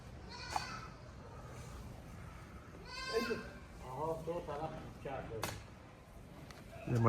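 Goats resting in the sun bleat several times at close range, with short wavering calls spread across the stretch amid light background movement.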